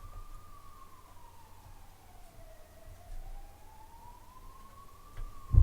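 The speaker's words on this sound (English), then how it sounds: "This is like the 10th ambulance in an hour." Ambulance siren passing outside, a faint wailing tone rising and falling slowly in the distance, steady and alone with no talking.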